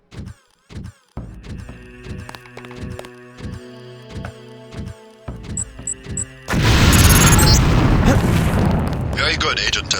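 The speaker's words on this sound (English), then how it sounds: "If you aren't close enough, the lamp will fall to the ground and detonate." Explosive lamp detonating in Deus Ex with a sudden loud, sustained roaring blast that follows a stretch of a voice over a quiet beeping backdrop, the rumble filling the last few seconds.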